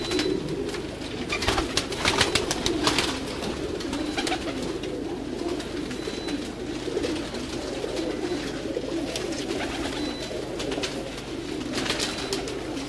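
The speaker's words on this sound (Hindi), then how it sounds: "ये जी टैडी कबूतर है जो कि उस्ताद जवेद उर्फ जोजी ने ख़ुद तैयार किए हुए हैं" Teddy pigeons coo softly on a rooftop loft, repeated low throaty coos over steady outdoor background noise, with wing flutters and clicks scattered throughout.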